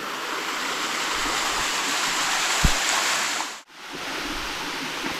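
A waterfall roars in a loud, steady rush, close by and constant, with one brief drop in the noise near the end.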